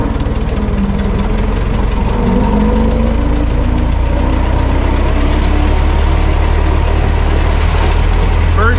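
A 1915 Ford Model T with a hand-crank-only engine drives down the road in first gear, its loud, rough, rhythmic engine chugging and rising whine continuous and close throughout.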